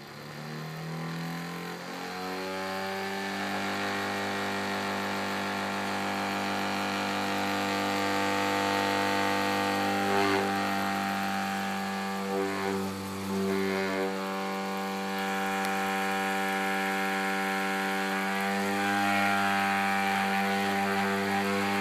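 Rodin pulse motor generator rotor spinning up from rest, a steady electric whine climbing in pitch and then holding a sustained humming drone, close and alone with no voices.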